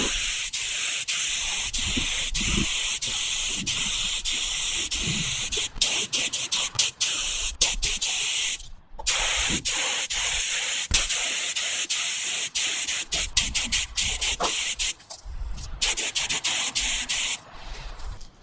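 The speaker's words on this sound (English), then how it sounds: "Let's go get that door sprayed." A spray gun hisses steadily and loudly while painting a 1979 Datsun 620 door, in long continuous passes broken by brief pauses between strokes.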